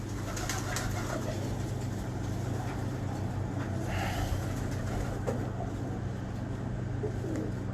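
Pigeons coo softly at a breeder's loft, low repeated calls over a steady hum of background noise, with no talk.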